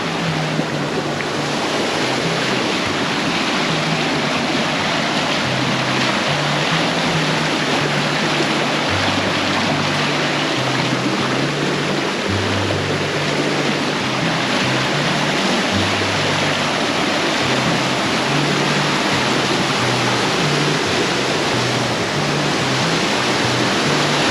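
Creek water running over rocks, a continuous loud rushing wash, close and steady with no break and no voices.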